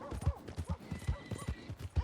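Horse hooves clip-clop at a steady walking rhythm in Red Dead Redemption 2, close and fairly loud, with a brief snort or whinny-like tone mixed in and no talking.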